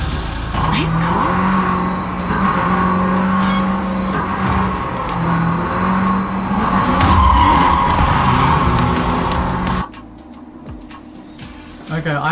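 Car engine revving with skidding tires in the video game Neverness to Everness, a loud steady drone lasting about ten seconds before cutting out abruptly, with a voice briefly talking over it.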